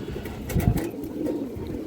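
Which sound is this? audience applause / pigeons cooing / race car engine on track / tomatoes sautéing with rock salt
pigeons cooing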